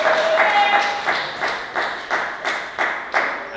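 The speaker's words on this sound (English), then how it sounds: "give him a round of applause" Audience applause at a closing event, heard as a series of evenly spaced loud claps or bursts, about nine in under four seconds, with a faint tone early on.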